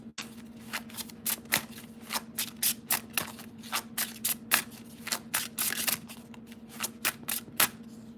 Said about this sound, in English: I'm just going to pull from the deck.